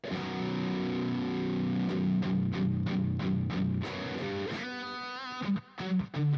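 Heavy distorted electric guitar chords chugging in a steady rhythmic palm-muted pattern, then a ringing chord that cuts off into short choppy stabs.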